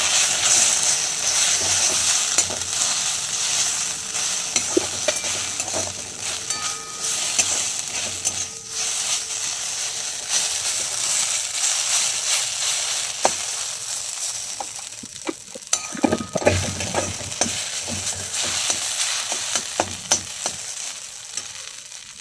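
Spatula stirring a quick snack frying in a pan, a steady crackling sizzle throughout with scraping and clinking strokes, busier near the end, no talking.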